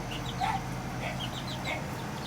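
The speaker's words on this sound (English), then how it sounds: "Got the baby chickens out here getting some air." Young chickens cluck and peep softly outdoors in open air, a scatter of short, high calls over a steady low background hum, fairly close but not loud.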